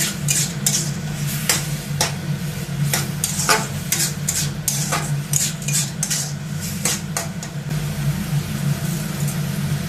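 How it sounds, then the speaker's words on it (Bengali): Spoon scraping and clanking against a cooking pot while stirring soft spinach in water for a Bengali palong shaak ghonto, repeated sharp metallic strokes over a low steady background hum, close and clear. "ভালো করে নেড়ে নিতে হবে।"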